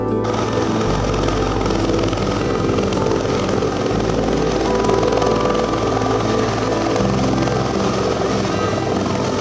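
A helicopter flying low over roadside food stalls near a field in Pangandaran, its loud, steady rotor thrum and engine roar continuous and close throughout, with no voices.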